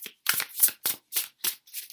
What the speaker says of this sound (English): these cards, they shuffle very interestingly, the sound of it.